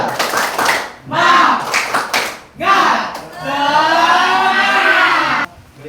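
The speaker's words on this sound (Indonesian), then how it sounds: "Tepuk semangat." A classroom of students does the tepuk semangat spirit clap: quick rhythmic bursts of group clapping in a set pattern, then a loud, sustained shout in unison, close and energetic.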